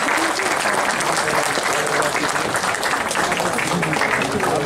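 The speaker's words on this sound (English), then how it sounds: "Let's have a big round of applause" A university moot court audience breaks into dense, sustained applause, a loud even wash of many hands clapping at once.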